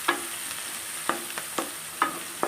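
Onions fry in oil with turmeric in a pan, giving a soft steady sizzle. Several sharp spoon scrapes and stirs cut through it at close range.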